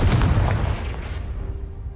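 A Confringo spell blast in Hogwarts Legacy, a booming burst at the start with a couple of follow-up thuds that fade into a quieter tail.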